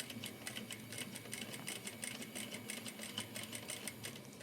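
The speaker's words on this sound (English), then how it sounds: "we're gonna top stitch about 1/8 of an inch" A sewing machine runs at a steady, moderate pace while top stitching a fabric zipper pouch, its quick, even needle clatter faint but continuous and uninterrupted by talk.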